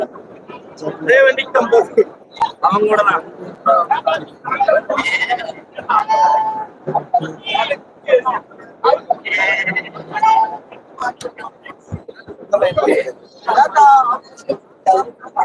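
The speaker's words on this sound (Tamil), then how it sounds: "நித்தியாபுரம் மாட்டுச்சந்தை வெள்ளாடு இன்னைக்கு ஃபுல்லா வெள்ளாடு கொடியாடு வேலையாடு தான்" Goats bleat repeatedly at a busy livestock market, with sharp overlapping calls rising over a steady murmur of people talking nearby.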